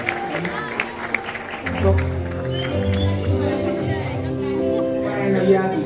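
Applause from the crowd at the ArFF 2024 fursuit dance competition awards, moderate clapping mixed with background music and some voices throughout.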